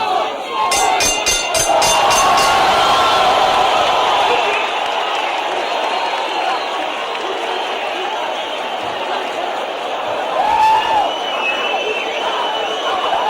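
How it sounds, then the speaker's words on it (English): A large arena crowd roars and cheers at the end of the Larry Holmes vs Tim Witherspoon heavyweight boxing match. The sustained noise swells and holds, with whistles and a few claps, and commentators talk over it. "a standing crowd showing their appreciation"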